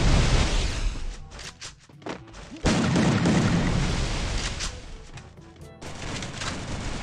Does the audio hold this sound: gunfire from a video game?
yes